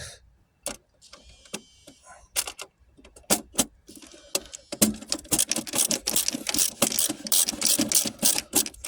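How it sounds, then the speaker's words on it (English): Screws driven in while mounting a Trio autopilot roll servo, heard as sparse clicks and ratcheting at first, then a denser run of rapid mechanical clicking and whirring close by. "You put your screws in."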